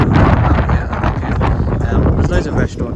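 Wind gusting across the open waterfront at Ocean Village harbour in Southampton, a steady loud rumble buffeting the microphone throughout, with faint voices mixed underneath.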